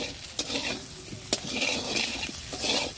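Boiled potatoes fry in a pan with a steady, close sizzle, broken by two sharp clanks of a utensil against the pan and the scrape of stirring.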